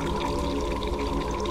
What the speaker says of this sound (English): God, stop with the f***ing gurgle over there.